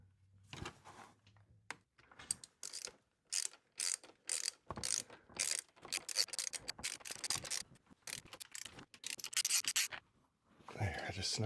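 A ratchet snugs up bolts during a Ford transmission install, giving short, irregular bursts of clicking and metallic turning with brief pauses between them, close by.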